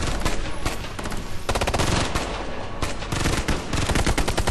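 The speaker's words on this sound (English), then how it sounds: "where did all that gunfire come from all of a sudden?" Sudden heavy gunfire in the video game Ghost Recon: Future Soldier: dense, continuous machine-gun bursts and rapid shots layered loudly without pause, filling the whole stretch with no voices.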